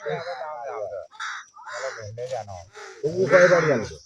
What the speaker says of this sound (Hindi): इतने सारे कौवे आ रखे हैं